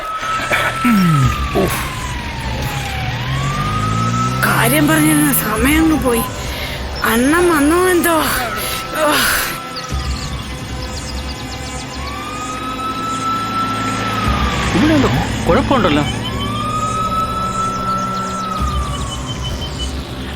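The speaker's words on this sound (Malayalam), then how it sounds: "ആംബുലൻസ് അല്ലേ അത്?" An ambulance siren wails, rising and falling in long sweeps, passing at moderate distance while people talk loudly over it.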